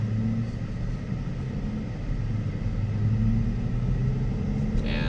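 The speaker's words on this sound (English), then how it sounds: "I can already hear the motor." A pickup truck's 5.3 engine gives a steady low, throaty rumble from inside the cab while driving, continuous and moderately loud with no talking.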